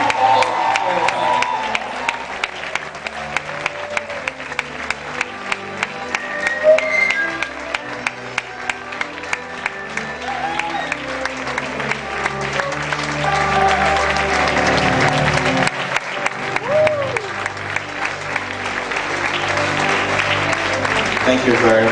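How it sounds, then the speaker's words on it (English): Steady applause from an audience at a university inaugural lecture, a continuous wash of clapping with scattered cheers lasting over twenty seconds, while a voice speaks over it at times. "A better round of applause for"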